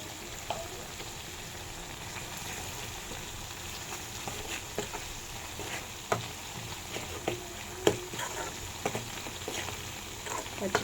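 Green chilies frying in tempering oil with turmeric, a soft, steady crackling sizzle broken by occasional stirring clicks and pops.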